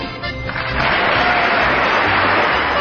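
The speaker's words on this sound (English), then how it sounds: "Another applause break." Applause fills a chamber during a State of the Union address, a dense, continuous wash of clapping that swells after the first second and stays loud and steady.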